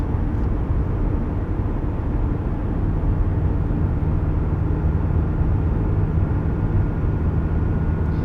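A steady, loud low drone of road and engine noise fills the cabin of a 2022 Toyota GR86 cruising in sixth gear at 55 mph, constant throughout with no talking.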